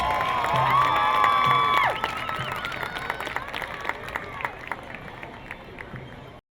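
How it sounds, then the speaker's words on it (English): Crowd applause and cheering with scattered whoops for a high school marching band at a football game, tailing off over a few seconds after a brief sustained brassy tone at the start. "let's give the Boaz marching band a round of applause"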